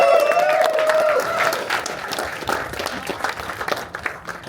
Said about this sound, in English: Everybody give your hands up, man. Round of applause.